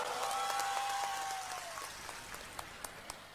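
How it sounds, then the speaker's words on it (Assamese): An audience claps at a political campaign rally, a dense close wash of applause that slowly thins and fades, leaving a few scattered late claps. "জিকি গৈছেতো ভাল কৰি হাত চাপৰি মাৰ"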